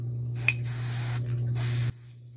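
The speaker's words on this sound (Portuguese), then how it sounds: "a partir daqui nós já podemos iniciar com a pintura aí no spray" Can of spray paint hissing in two sustained bursts with a short pause between them, close and fairly loud over a steady low background hum, with no talking.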